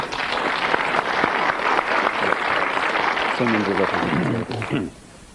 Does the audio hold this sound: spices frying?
no